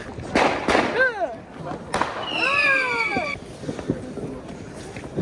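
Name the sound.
fireworks going off in a crowded street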